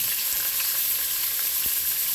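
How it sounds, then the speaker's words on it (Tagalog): Potato pieces fry in oil in a pan for a home-cooked caldereta with carrots, bell pepper and beef, giving a continuous close crackling sizzle with no voices. "Naprito ko na yung patatas."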